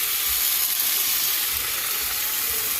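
Water poured into a hot saucepan over fried fish for Jamaican escoveitch, giving a steady, loud sizzling hiss that carries through the whole stretch with no talk.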